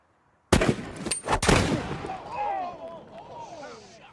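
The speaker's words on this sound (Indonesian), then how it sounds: "tak kalah Billy melepaskan sebuah pistol untuk adu cepat siapa yang terlebih dahulu membunuh." Pistol shots in a cowboy film quick-draw duel: a few sharp, loud cracks in quick succession at the start, followed by ringing echoes and a fading film score.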